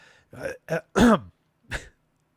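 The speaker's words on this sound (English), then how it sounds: "There was no way I was getting through at our Encarnacion without clearing my throat." A person clears their throat with a few short guttural rasps and harsh coughs, close and loud, with brief pauses between bursts.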